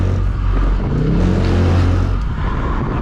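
A Ford Mustang S650 engine roars loud and close while drifting, holding a dense, sustained drone with slight shifts in pitch for a few seconds, with no voices over it.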